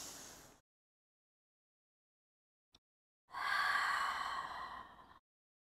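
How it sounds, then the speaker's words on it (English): A long, airy exhale during foot exercises, close and sighing, following a shorter breath and a silent pause. "Exhale."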